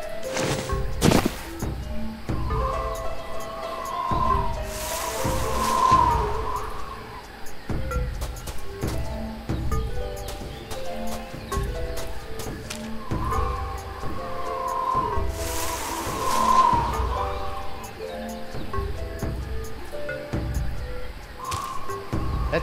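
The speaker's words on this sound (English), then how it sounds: "That jungle sure is noisy." Noisy jungle ambience from the adventure game Tales of Monkey Island: a dense, continuous bed of chirps, clicks and knocks with recurring swells of bird-like calls, steady and moderately loud throughout.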